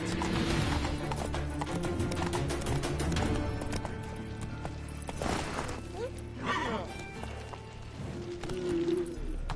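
Roach, a horse in The Witcher 3, gallops with a steady, rhythmic clip-clop of hooves alongside a faint whinny, amid game ambience and some voices.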